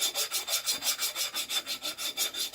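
A blade corner is chamfered on an Arkansas sharpening stone, about fifteen quick, even strokes rasping back and forth in a steady rhythm, close and clear with no talk.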